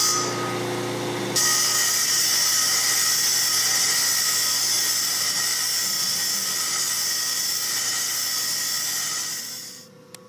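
A handheld power tool grinds steadily while sharpening a tooth, likely on a baseball field edging or rake tool, a loud continuous whine running nearly ten seconds after a quieter start, then cutting off.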